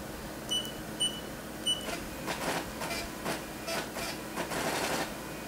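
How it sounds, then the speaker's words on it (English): A Technidyne MicroTB-1C instrument prints calibration data, giving a few short high electronic beeps followed by a series of rhythmic mechanical printer buzzes and whirs at close range in a quiet room. "you can go ahead and input that calibration data now and press print"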